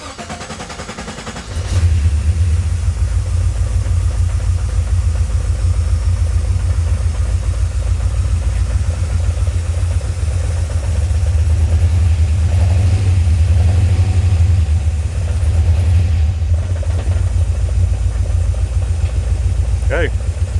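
A swapped LS V8 idles in a Datsun 280Z, catching after a brief quiet start and then holding a loud, steady, deep rumble close by for the rest of the time, with slight surges and no talk.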